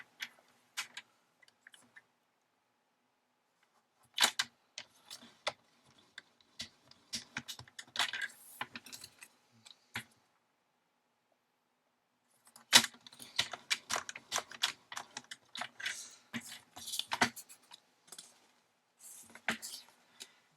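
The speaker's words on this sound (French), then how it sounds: "je vais d'abord plier dans le sens de la hauteur à 1 cm" Card paper for a gift-voucher pouch is folded lengthwise one centimetre from the edge, giving scattered soft taps, creases and rustles in two bursts with quiet gaps between them.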